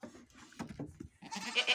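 Alpine and Czech Alpine goats with their kids bleat in a few short, wavering calls at moderate distance, rising near the end.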